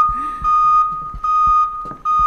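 A fire alarm blares in the horror video game Minds Eyes, a loud, steady high electronic tone that cuts out and restarts in repeated bursts, with low thumps and knocks underneath.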